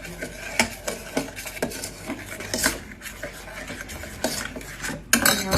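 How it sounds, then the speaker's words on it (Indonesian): A utensil stirs food in a pot on a stove that has not yet been lit, giving repeated scraping and clinking strokes in an uneven rhythm at close range, with no talk. "kita aduk-aduk dulu guys."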